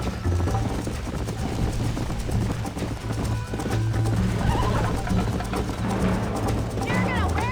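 Rhythmic hoofbeats clip-clop steadily as horses gallop in the video game Red Dead Redemption, with an occasional whinny, under a continuous bed of music and voices.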